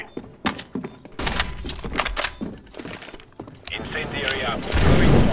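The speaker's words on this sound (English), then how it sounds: "Flashbang." A flashbang grenade bursts during CS:GO gameplay amid a rapid series of sharp, loud impacts and gunfire-like cracks, with voices calling out over the clatter and a dense roar building toward the end.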